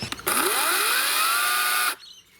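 An Ozito 36V battery chainsaw whines loudly at close range for about a second and a half, its pitch climbing as the chain spins up, then the chain brake cuts it off abruptly and leaves near silence.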